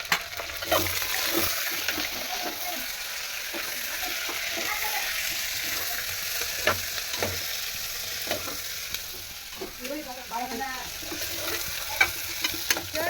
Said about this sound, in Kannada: ಈರುಳ್ಳಿ ಫುಲ್ ಗೋಲ್ಡನ್ ಕಲರ್ ಬರೋವರೆಗೂ ಫ್ರೈ ಮಾಡ್ಕೋಬೇಕು.